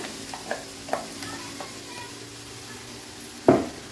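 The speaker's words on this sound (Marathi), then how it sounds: "आता कंटिन्यू आपल्याला ह्याला आहे ना असं स्टर करायचं आहे" A spoon stirs grated coconut, sugar and mango pulp in melted ghee in a pan, with a soft low sizzle, a few light scraping taps and one louder clack of utensil against pan near the end.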